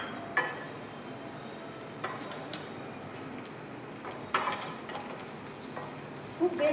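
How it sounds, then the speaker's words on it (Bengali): Dry fruits (makhana, cashews, raisins and black raisins) fry softly in ghee in a small pan, giving a faint steady sizzle broken by light spoon-and-pan clicks from stirring. "এখানে আমি এই ড্রাই ফ্রুটসগুলো আগে আমি একটু ফ্রাই করে নেব সামান্য।"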